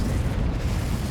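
Confringo fire spell exploding in Hogwarts Legacy, a dense, continuous low rumbling boom with crackling burst texture that holds steady for about a second, loud and close.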